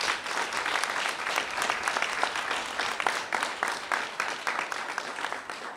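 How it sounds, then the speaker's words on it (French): Thunderous applause from a crowd at a Moele Bénin political meeting in Benin, a dense, steady wash of many hands clapping at full strength throughout, with no voices rising above it. "Tonnerre d'applaudissements pour Moël Bénin"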